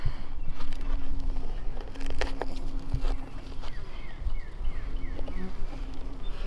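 Honey bees buzz steadily as they pour out of a nucleus box on a warm day, a dense continuous drone of many insects close by, with no talking.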